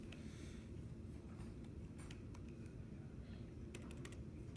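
Keys on a computer keyboard clatter faintly in short irregular bursts during a TypeScript coding talk, a few light clicks sitting above a steady low background hum.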